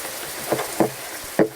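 Heavy rain gives a steady, dense hiss throughout, with a few sharp knocks from indoor work on a Bluetooth speaker's charging port.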